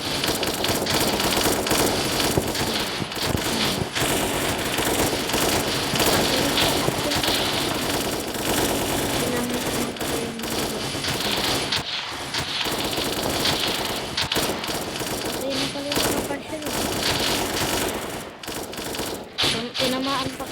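Gunfire in the video game Special Force Group 2: loud, dense automatic bursts rattle almost without a break, overlapping shots forming a constant barrage.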